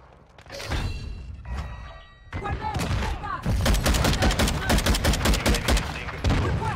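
Rapid bursts of 7.62 Lachmann rifle gunfire in Call of Duty MW2, with loud repeated shots and impacts that thicken into a dense fusillade in the second half, heard alone without talk.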